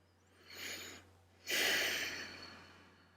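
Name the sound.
deep breathing during a yoga stretch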